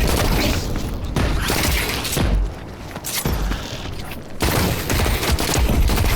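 Loud, close bursts of automatic gunfire in The Cycle Frontier shooter game, rapid volleys broken by short gaps, with booming impacts mixed in.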